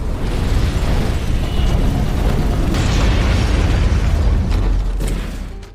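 A bomb explodes in a film scene, heard as a loud, sustained roaring blast that rumbles and crackles with debris for several seconds before easing off.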